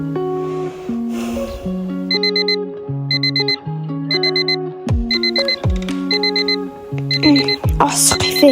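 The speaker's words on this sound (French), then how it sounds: "ce réveil" An alarm clock ringing with a looping electronic melody of bright beeping tones, repeated phrases sounding continuously and loud, with a few knocks and rustles near the end.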